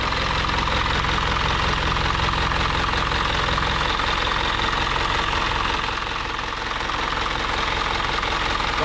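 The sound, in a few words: 4M51 engine running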